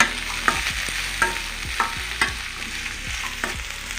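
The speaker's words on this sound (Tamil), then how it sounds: "கேரட் வந்து நீளமாக அறுத்து வச்சுருக்கேன். இது லைட்டாக வதங்கட்டும்." Long-cut carrot strips sauté in a pan for a village-style thumbai keerai rice dish, a steady close sizzle broken by regular scraping stirs about every half second to second, with no voices.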